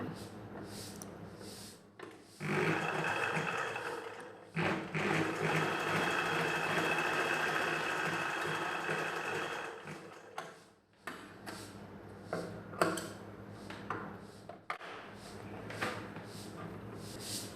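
A sewing machine stitches a back-open blouse in a long steady run, then breaks into short bursts and stops, with quieter handling between runs.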